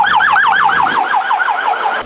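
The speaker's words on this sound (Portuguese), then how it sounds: "Ah, ambulância ali," A loud ambulance siren wails in rapid repeated up-and-down sweeps, close by and dominating, with faint street noise underneath.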